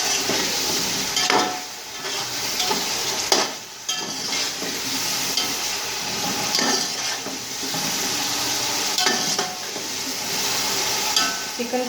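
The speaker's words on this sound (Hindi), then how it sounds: "चिकन को भूने 2 से 3 मिनट।" Chicken pieces sizzle and fry steadily in a pan for pulao, a loud continuous hiss broken by a few stirring scrapes and clatters.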